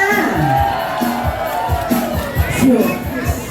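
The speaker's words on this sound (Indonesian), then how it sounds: "Mana tepuk tangannya?" University anniversary ceremony audience in Ambon applauding and cheering after a prize announcement, loud crowd noise with shouts and whoops over clapping, and a voice on a PA carrying through.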